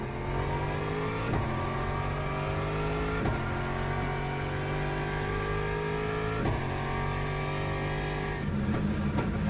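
A Corvette race car in the racing game Le Mans Ultimate roars steadily at close range, its engine note climbing and then dropping sharply at several gear shifts across the run, with no talk over it.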